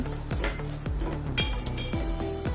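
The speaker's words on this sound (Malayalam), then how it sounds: "നല്ലപോലെ ഇളക്കി കൊടുക്കുക" Vermicelli roasts in a pan with a soft continuous sizzle while a spoon stirs it. Rhythmic scrapes and light clinks against the pan repeat about twice a second, close up.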